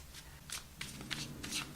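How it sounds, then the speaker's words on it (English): A deck of tarot cards being shuffled by hand, giving a series of soft, close riffling bursts of papery flutter at an irregular pace, fairly quiet with no talking. "2 more shuffles."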